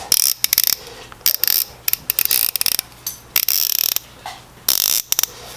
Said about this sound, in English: this is my go-to ratchet, and so if you hear this